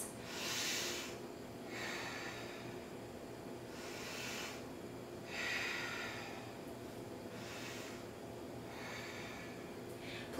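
Slow, soft breaths drawn in and out through the nose during a held vinyasa yoga pose, about five even airy cycles spaced a couple of seconds apart, close and quiet over faint room hum.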